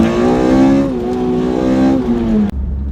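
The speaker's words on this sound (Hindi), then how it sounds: "जब आप इसको एक्सेलरेट करेंगे हाई RPM पे, मैं आपको करके दिखाता हूँ" A Toyota MR-S fitted with a swapped 2ZZ engine pulls hard in second gear, its loud, close engine note holding a high, steady rev with a brief dip before the throttle cuts off sharply.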